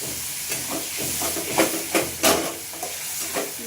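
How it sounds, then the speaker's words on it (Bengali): A little water goes into a pan of cooking keema for kima potol, setting off a loud steady sizzle and steamy hiss with a few sharper bursts as it hits the hot pan, close up. "এবারে বাটিটা নিয়ে অল্প একটু জল দিচ্ছি এখন"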